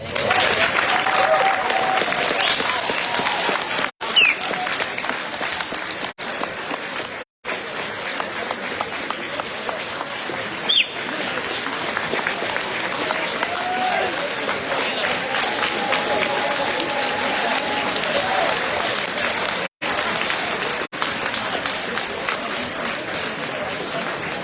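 Sustained audience applause fills a convention dinner dance hall, dense and loud clapping with crowd murmur and faint voices, briefly cut by a few short gaps.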